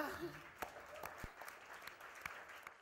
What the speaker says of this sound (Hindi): तो भैया अगर तंबाकू नहीं बना रहे तो एक बार जोरदार ताली बजा दे मेरे राजा